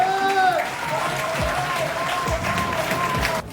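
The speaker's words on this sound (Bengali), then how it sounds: "অরুণ স্যারের জন্য না জোরে হাততালি হবে" An audience applauding for Arun sir at an Ayurvedic business meeting, a dense steady wash of clapping throughout that cuts off abruptly at the end, with a voice carrying over it.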